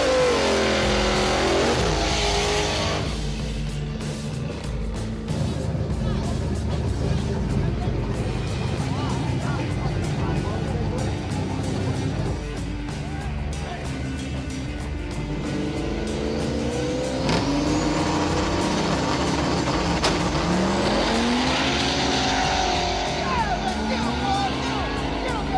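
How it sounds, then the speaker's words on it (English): Street race between a Buick GN and a blue Ford Mustang, with loud engines revving and accelerating hard, cars passing close by and brief tire squeal, while people talk over the roar throughout. "Race number 3 is Pat in the GN versus Tim in the blue Mustang"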